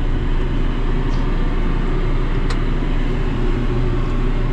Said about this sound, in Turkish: Ben de traktörü çalıştıracağım